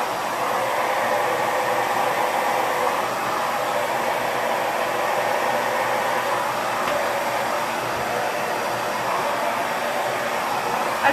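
A hair dryer fitted with a diffuser runs steadily and loudly throughout, a continuous airy whoosh with no pauses while it dries hair.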